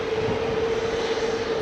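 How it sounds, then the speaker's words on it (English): Jet engines of a departing airliner at Heathrow drone loudly and steadily, a sustained roar with a constant tonal whine and no talk. "Listen to the engines."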